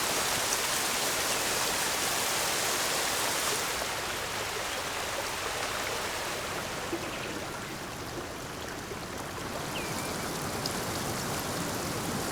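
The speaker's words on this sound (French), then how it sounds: "Avoir un peu de flotte qui passe sous les ponts aussi, des petits sons de water lapping comme on dit en anglais." Small splashing waterfalls and lapping water in the DOFUS 3 video game ambience, a continuous, even rush of flowing and trickling water that holds steady and slightly softens partway through.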